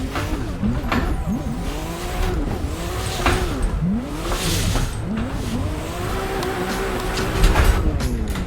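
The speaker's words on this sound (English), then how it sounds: "ripping an old Ford Mustang with the RV swap through the Touge is so cool" A virtual old Ford Mustang drift car with a rotary engine swap, driven on a mountain touge road in a racing game, revs up and down in repeated sweeping engine pulls with tire squeal, loud and continuous throughout.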